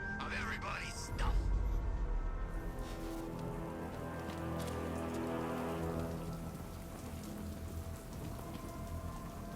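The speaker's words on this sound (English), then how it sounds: "What's with all the rain?" Heavy rain pours down steadily in the Batman: Arkham Knight video game, with a low rumble of thunder early on and indistinct voices beneath the downpour.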